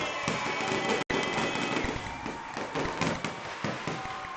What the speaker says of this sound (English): Valpo will storm out onto the field with fireworks behind them.